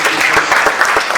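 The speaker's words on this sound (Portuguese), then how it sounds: "Você pode aplaudir forte o nome de Jesus" A church congregation claps loudly together in dense, continuous applause for the name of Jesus, a steady broadband wash of many hands that holds at full level for the whole moment.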